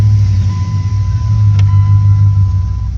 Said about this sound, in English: Then start the truck.